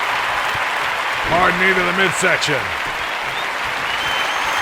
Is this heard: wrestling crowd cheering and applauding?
yes